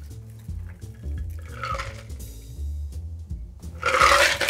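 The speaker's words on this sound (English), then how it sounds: "grab your Hawthorn strainer and fine strainer just to keep out any ice chunks," A cocktail poured through a Hawthorn strainer and fine strainer, giving a steady liquid trickle with small clinks that swells into a louder splashing rush at the end.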